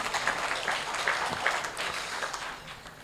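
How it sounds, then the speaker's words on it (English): Guests at a hotel book launch applaud themselves, a soft, steady patter of clapping from across the room that tapers off slightly toward the end, with no talking over it. "Give yourselves a hand clap, please."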